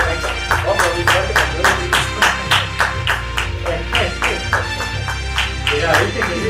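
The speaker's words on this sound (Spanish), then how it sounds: "Un aplauso fuerte para Clarita." An audience claps for Clarita in a steady run of sharp, rhythmic hand claps at close range. A low hum sits underneath and faint voices come through at moments.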